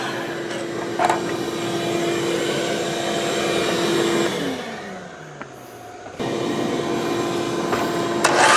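A shop vac running off one leg of an EG4 6000XP off-grid inverter gives a steady, loud motor whine with a constant tone, which winds down partway through and then starts up again abruptly at full strength.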